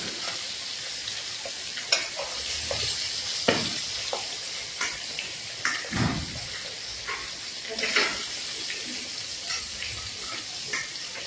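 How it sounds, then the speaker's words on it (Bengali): Fish fries in hot oil in a home kitchen before being flipped, a steady close sizzle with scattered spatters and sharper pops from the pan, heard alone without voices. "মাছ এক পাশ ভাজা হয়ে গেছে, আর এক পাশ উল্টাই দিব।"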